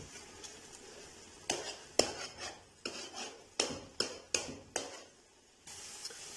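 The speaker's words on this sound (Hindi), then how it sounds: "अभी हम इसको घी के साथ अच्छी तरह भून लेंगे।" Grated carrots roasting in desi ghee in a pot for carrot halwa, stirred with repeated close metallic scrapes and clanks of a spoon against the pot, uneven in rhythm, over a faint sizzle with no talking.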